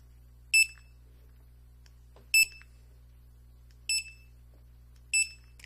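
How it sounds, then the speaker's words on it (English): Four short high-pitched electronic beeps from a DS3407 barcode scanner, evenly spaced about 1.5 seconds apart, each crisp and clear over a low steady hum. "when you pull the trigger, you will hear the beep"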